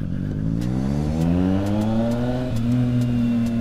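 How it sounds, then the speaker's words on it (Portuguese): A Triumph Street Triple motorcycle engine idles and revs up close while warming up, its pitch climbing steadily then dipping and settling into a rumbling idle. "Dá uma esquentada na moto."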